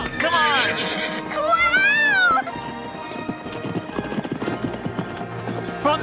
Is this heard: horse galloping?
yes